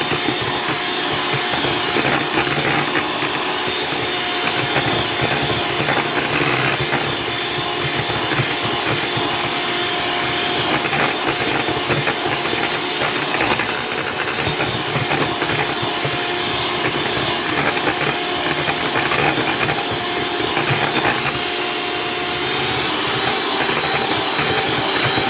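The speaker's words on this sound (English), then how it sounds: "simply beat this for another minute" An electric mixer beats mamon batter in a kitchen, a steady, loud whirring drone that runs unbroken throughout with no talk over it.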